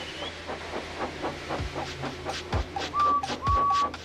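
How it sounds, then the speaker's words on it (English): A steam locomotive sounds off with rhythmic puffs of steam and a background hiss, joined by a few brief high whistle-like tones, moderately close and without speech. "So they lit his fire, made lots of steam, and Edward puffed away."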